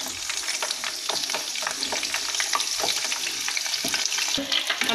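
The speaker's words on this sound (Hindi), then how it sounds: "अब फूल गोभी को भी फ्राई करेंगे।" Cauliflower florets and mixed vegetables frying in a pan for veg dum biryani, a close, busy sizzle broken by repeated scraping and tossing strokes of a spoon, no talking.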